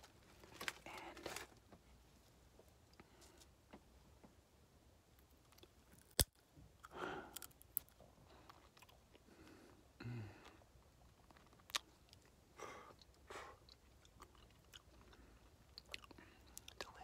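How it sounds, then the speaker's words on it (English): Sunflower seeds being chewed close up, with soft irregular crunches and bites spread through a quiet stretch, plus a few sharper clicks, under no talk. "Some sunflower seeds right here."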